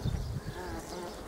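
Honeybees buzz at a hive in a brief, close, steady drone, with someone speaking over it.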